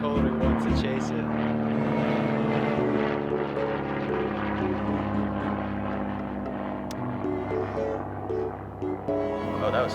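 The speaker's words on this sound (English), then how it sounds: "There's a plane flying overhead." A propeller airplane flies overhead at an Arizona base on a windy day, a steady droning engine hum that carries under people talking nearby.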